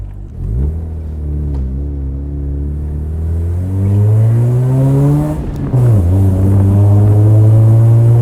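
A Mazda RX-8 rotary engine revs hard with the windows open, its rising buzzy drone climbing steadily through two long pulls, briefly dropping at a gear change before surging again, loud and close without talk.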